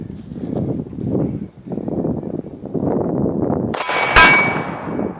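A 9mm Glock 19X fires at a steel CrossFit plate outdoors, a single sharp crack near the end that rings out briefly over steady wind rumble.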